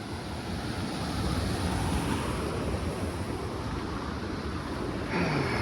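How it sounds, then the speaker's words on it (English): A river flowing alongside the Lone Pine Peak trail, a steady broadband rush of water that stays constant and close throughout, without any voices. "River is flowing."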